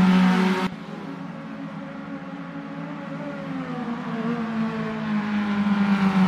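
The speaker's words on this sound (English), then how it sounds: "Very nice engine sounds." An F3-style open-wheel race car engine in the Automobilista 2 racing game hums steadily after a brief loud burst, then its pitch climbs gradually as it revs up, with no voices present.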